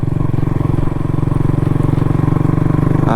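A KTM RC 200 sport motorcycle engine runs while riding along a village road, giving a loud, steady pulsing drone that holds throughout and lifts slightly at the very end.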